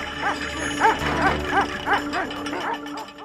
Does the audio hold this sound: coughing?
no